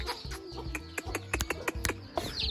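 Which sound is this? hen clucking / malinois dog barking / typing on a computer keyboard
hen clucking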